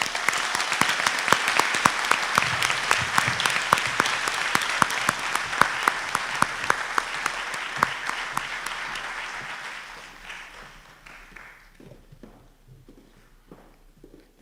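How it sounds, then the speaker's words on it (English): A book launch audience applauds Bernice with a full, bright round of clapping that holds steady for about ten seconds, then thins out into scattered claps and fades near the end. "Another round of applause for Bernice"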